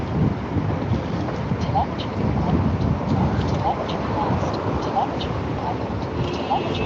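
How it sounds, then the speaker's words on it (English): Strong wind roars steadily and fairly loudly across the microphone, a dense unbroken rush with faint voices now and then underneath. "The wind."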